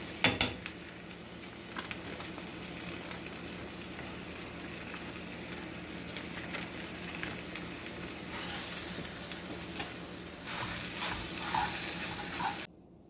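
Sage sausage frying and browning in a pan, a faint, steady sizzle running throughout, with a brief clink near the start and the crackle swelling slightly louder just before it cuts off.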